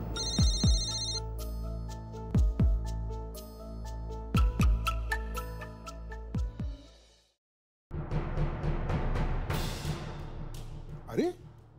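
A mobile phone ringtone plays for an incoming call in a Marathi household drama scene, a repeating melodic tone pattern over steady low pulses, loud and close, followed by people talking.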